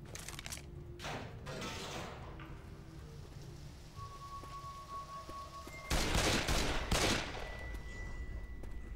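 Rapid gunfire rattles through a Left 4 Dead 2 match, dense bursts of shots early on and a louder, heavier volley in the second half, close and continuous with no talk.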